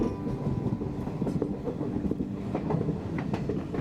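Train running on rails, a steady close rumble with repeated clickety-clack wheel beats and no talk over it.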